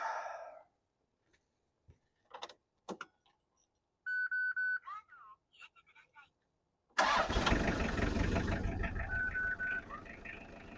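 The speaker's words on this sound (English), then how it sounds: "Let's crank it up and pray that we did everything right." A JDM camper van engine, just fitted with a new timing belt, cranks with a few short bursts, then catches and settles into a loud, steady idle, with a brief electronic tone partway through.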